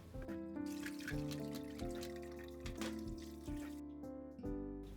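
Water trickles steadily from a running tap, with faint dribbling and splashing as a fish's innards and blood are scrubbed out with a toothbrush under the stream, close by and continuous.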